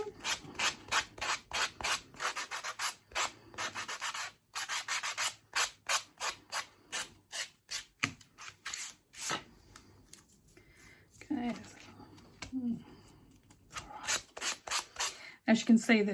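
A sanding block rasps across chipboard in brisk, repeated strokes. The strokes slow and thin out midway, then pick up again near the end.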